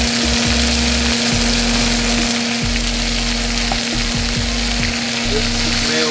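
Chicken sears in a hot pan with a loud, close, continuous sizzle and frying crackle, a few stirring or shifting bumps breaking through, and no voices.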